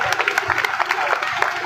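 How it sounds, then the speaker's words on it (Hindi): Audience applause at a village celebration of Dr. Bhimrao Ambedkar's birth anniversary during a garland welcome, a brisk patter of many hands clapping close by, loud and continuous with a voice heard beneath it. "तालियां बजती रहे भाई।"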